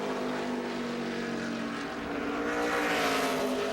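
A 2012 NASCAR Sprint Cup race car on a qualifying lap, its engine a loud, continuous roar with a steadily shifting pitch as the car runs the track, no voices over it.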